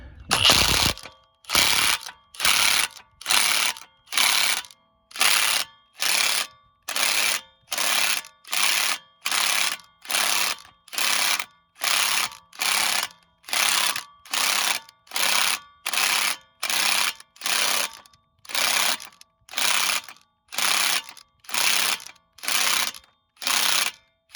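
A ratchet zips down a bolt on a 2010 Buick Enclave passenger side axle, a long series of sharp, evenly spaced clicking bursts, close and loud, repeating steadily for over twenty seconds.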